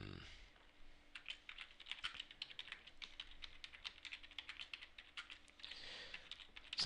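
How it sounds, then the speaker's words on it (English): Someone types comments into a care records form on a tablet PC, producing a steady run of quick, light key taps close by, with brief pauses at the start and near the end. "a box that allows us to type some extra text in there to give some sort of comments about the day"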